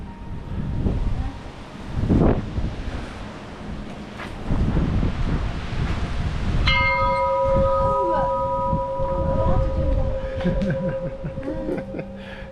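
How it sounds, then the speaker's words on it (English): Church bells in Santorini ring out with sustained, overlapping tones after a stretch of wind and distant surf, continuing to the end with clanging strikes. "Should we ring the bells?"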